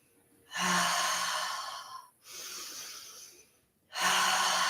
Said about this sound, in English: really focus on just letting the exhale drop